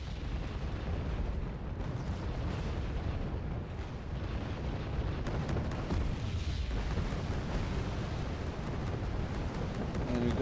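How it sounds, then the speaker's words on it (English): Dense cluster artillery barrage in the Wargame: Red Dragon strategy game, a continuous roar of overlapping booms and rumbling impacts filling the whole stretch without any talk. "There's a cluster artillery just trying to get anything from AA to moving up infantry transports"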